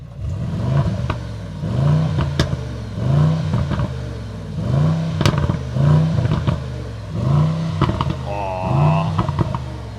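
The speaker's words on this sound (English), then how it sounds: "How do you like the sound of the GLE63S AMG?" A 2024 Mercedes-AMG GLE63 S Coupe engine revs repeatedly outside, rising and falling in a steady series of throaty bursts with brief pauses between each rev.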